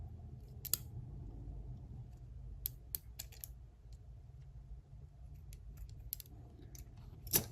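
Scissors snipping a 1/64 scale 3D printed plastic mud flap to shorten it, a few sharp isolated clicks scattered over quiet background hum, close and crisp.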